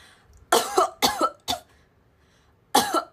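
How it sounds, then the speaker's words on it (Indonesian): Four sharp coughs from a young woman, three in quick succession and then one more after a pause, close and loud over a quiet room. "aku batukin kalian."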